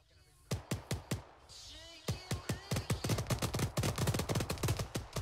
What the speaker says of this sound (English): that's where the gunshots are coming from